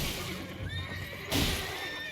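An enemy's horse in Elden Ring lets out a loud, close neigh lasting about two seconds, with a sharp rise partway through amid game background sound.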